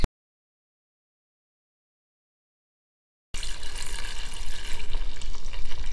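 Milk is poured into a bucket, a rushing liquid splash that starts abruptly after three seconds of silence and continues steadily, moderately loud, to the end.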